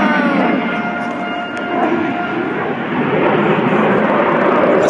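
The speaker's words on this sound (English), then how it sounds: "Here is your United States Air Force's F-22 Raptor." A US Air Force F-22 Raptor jet flies past at an air show with a loud, broad, sustained roar that stays strong throughout, heard alone without talk.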